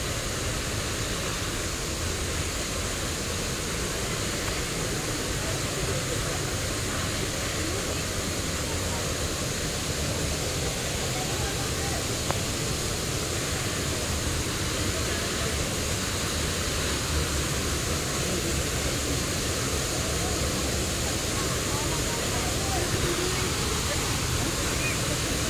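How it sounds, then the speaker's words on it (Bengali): Water pours down Sana Ghagra falls in Odisha with a constant, dense roar that stays unbroken and even from start to finish. "দেখেছি জলের স্রোত কেমন কি পড়ছে, জলটা পড়ছে।"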